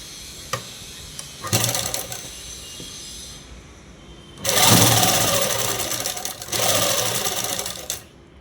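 A sewing machine stitches the neck of a seven-year-old girl's blouse in several bursts of rapid, whirring stitching separated by pauses, close and clear with no talking.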